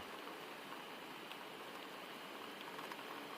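Gentle rain falls outside a cabin in the woods, a soft, even hiss of drops with faint scattered patter, steady and unbroken throughout.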